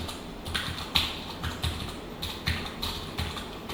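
Typing on a computer keyboard, quick bursts of crisp key taps close up, alternating with short pauses, no talking.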